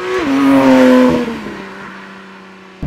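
A Porsche 991.2 GT3 RS with a naturally aspirated 4-litre six-cylinder engine screams loudly up the rev range, then the note drops and fades away as the revs fall, with no talking.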